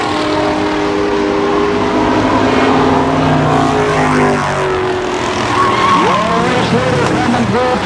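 Race cars at the Kil Kare Speedway Memorial Day Championships roar loudly and continuously past on the final lap, their engines droning and shifting pitch, with an announcer talking over them.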